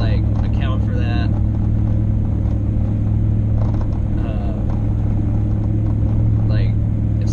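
A mall crawler vehicle driving on a road, heard from inside as a steady, loud low rumble of engine and road noise, with a voice talking over it at times.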